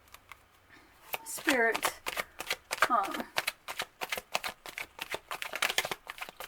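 Tarot cards shuffled by hand in rapid riffling bursts, crisp and close, with repeated flicks and taps between shuffles under a soft spoken voice.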